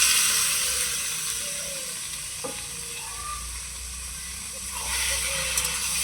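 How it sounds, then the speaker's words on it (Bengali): Chopped tomatoes go into potatoes frying in a pan, giving a steady, close sizzle and hiss with light stirring scrapes throughout. "এই আলু কষানোর সময় এখন টমেটো কুচি দিয়ে দিই।"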